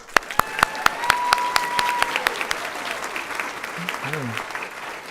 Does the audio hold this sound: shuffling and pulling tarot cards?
no